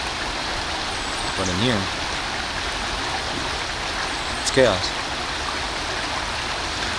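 Water flowing steadily outdoors, a broad continuous rush like a stream, heard throughout while a person speaks over it.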